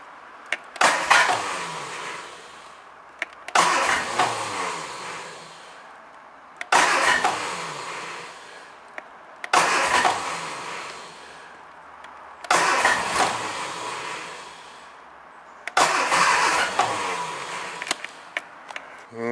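Car engine fresh from an engine change is cranked with choke applied: six separate bursts of starter whirring and sputtering, each lasting about two seconds and followed by a brief pause, without catching and with no talk.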